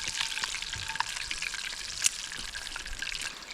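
Rockfish frying in oil over a rainy campfire, a steady close sizzle and bubbling with small pops and crackles throughout.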